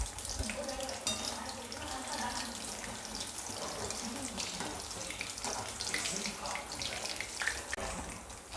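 Coated soybean manchurian balls frying in hot oil, giving a steady, dense sizzle and crackle that runs the whole time at moderate loudness, with a faint voice in the background.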